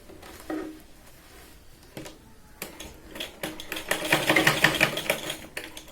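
A sewing machine runs a diagonal seam on Katori blouse fabric, with light mechanical clatter and tapping that builds into a louder, busier run toward the end.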